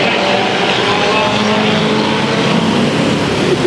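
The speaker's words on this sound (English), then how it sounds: "That car back out on track and you can hear it." A loud race car engine roars continuously at high revs, close by, during an enduro at Madera Speedway, with a steady rasping drone and no talking.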